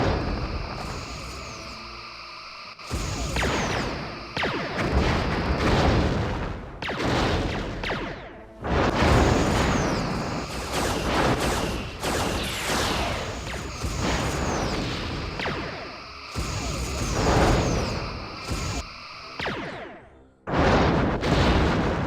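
Starship weapons fire and explosive booms in Star Trek Bridge Commander during a battle with a Sovereign-class ship, loud bursts recurring throughout with brief pauses, layered over mechanical game effects.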